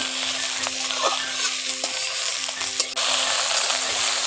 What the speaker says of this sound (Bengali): ঢেঁড়সটাকে নাড়াচাড়া করে পাঁচ মিনিট ধরে আমরা এখন ঢেঁড়সটাকে ভেজে নেব